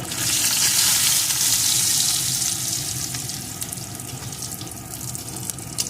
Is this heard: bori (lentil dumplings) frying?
yes